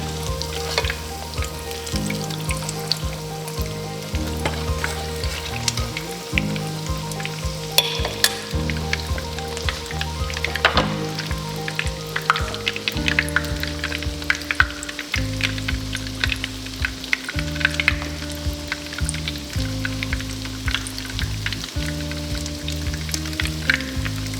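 Tuna croquettes frying in hot oil, a steady close sizzle and crackle that continues throughout with occasional stirring noises and no talking.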